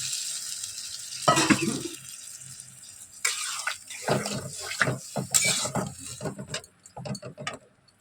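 Water pours into a cooking pot in brief close splashes and bursts, with quiet gaps between them and small clinks near the end.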